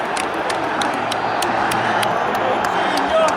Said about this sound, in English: All of the Inter fans are celebrating.